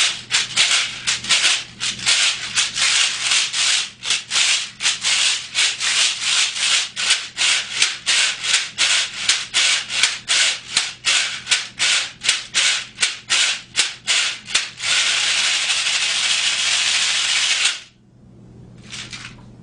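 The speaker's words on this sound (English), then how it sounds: "The afouche, or the cabasa, has many, many names." An afoxé, or cabasa, shaker played loudly in a fast steady rhythm of scraping, rattling strokes, ending in a long continuous rasp and then a brief final shake, heard alone without talking.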